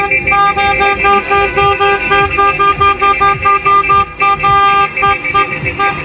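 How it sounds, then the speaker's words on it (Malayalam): Several car horns honk loudly and repeatedly in sustained overlapping blasts, close by, from a ribbon-decorated wedding procession of cars in Tbilisi, Georgia. "കല്യാണത്തിന്റെ ഇതാണ് റിബണൊക്കെ തൂക്കിയതാ ഹോൺ അടിച്ചുകൊണ്ട് പോകുന്ന കാഴ്ച"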